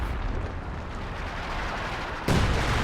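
A major artillery barrage in Company of Heroes 2, a rumbling, booming wash of distant blasts that swells into a sudden louder, sharper impact near the end, with no voices.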